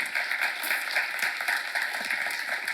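A church congregation applauding during a sermon seminar, steady dense clapping from many hands filling the room, sustained and even without a voice over it.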